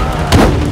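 A single loud gunshot from the game Spider-Man 2, a heavy close blast with a booming low body that swells briefly in the middle of a short burst of dense noise.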